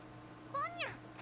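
A kitten gives one short rising meow, close by over a faint steady background hum.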